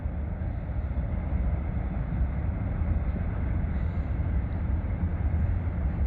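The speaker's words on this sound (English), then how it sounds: "And then we're just gonna watch the train go past the tripod" A train passes behind a riverside house, a steady low rumble that holds for several seconds with no break, heard from some distance with no talk.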